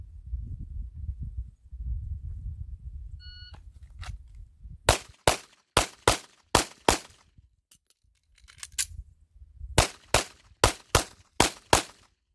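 Handgun shots in a draw-and-shoot drill comparing appendix and 3 o'clock carry, a sharp first report after a quiet pause, then a quick string of four more loud cracks, a short gap and another rapid string of five, with low rumbling background.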